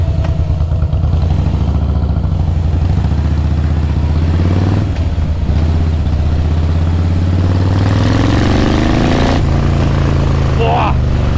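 A custom Harley-Davidson Fat Boy rumbles loudly and close inside an indoor hall, its deep V-twin idle giving way to a rising rev. Someone talks over the engine.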